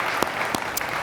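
A brief burst of audience applause for the jury at a pitch competition, steady and fairly loud throughout, with a few sharper claps standing out.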